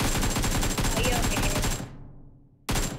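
Video game gunfire crackles in loud, rapid automatic bursts that fill most of the clip, cut off briefly, then resume suddenly.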